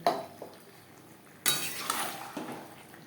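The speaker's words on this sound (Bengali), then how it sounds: "মশলার সাথে আলু বেশ ভালো করে কষিয়ে নেব" A spoon scrapes and clinks in a pan as potatoes are stirred with spices and a little water for a rohu fish curry. Soft faint stirring comes in a few separate strokes, with a low sizzle underneath.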